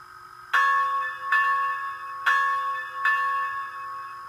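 Four evenly spaced rings come from the DCC sound bell of an S gauge Southern Pacific cab forward steam locomotive model. Each clear metallic strike decays before the next, close and alone.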